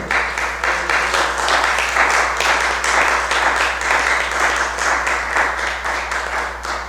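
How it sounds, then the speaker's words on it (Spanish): Sustained applause from a church congregation at a Spanish-language worship service, a steady broadband wash of many clapping hands lasting several seconds at an even level. "Dale un aplauso a Él, por favor."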